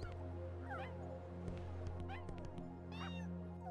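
A cat meows several times, each call a rising and falling cry heard over a constant electrical hum, with other faint background sounds between the calls.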